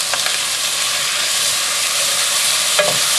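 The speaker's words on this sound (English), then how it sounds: "Just give them a nice seared and stir fry with ginger and garlic." Beef sears and stir-fries with ginger and garlic in a pan for an Asian-style stew, making a loud, dense, continuous sizzle with a faint clink near the end.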